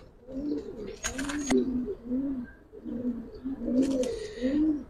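A female Giribaz pigeon in a loft gives repeated low, rolling coos in a steady rhythm, close and clear, broken by two short rustling bursts.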